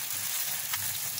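Msemen flatbread frying in oil in a pan gives a constant close sizzle with a faint crackle partway through, no voices.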